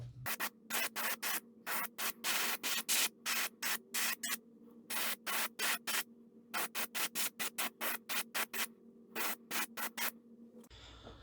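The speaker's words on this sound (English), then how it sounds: "what I'm going to do is put a fine mist of pearl white" Airbrush spraying a fine mist of pearl white paint on a handmade wooden saltwater stick-bait lure, rapid short hissing bursts in quick succession, close and fairly loud, with no talking.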